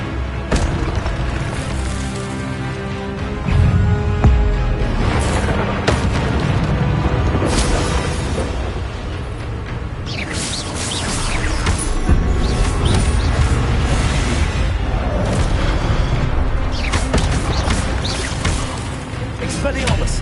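Fiery Incendio spell blasts in Hogwarts Legacy, booming bursts recurring through a dense, loud battle soundscape with music and other spell effects.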